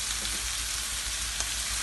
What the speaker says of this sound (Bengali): পেঁয়াজটাকে আমি এখনই একটু কম ভাজা ভাজা করলাম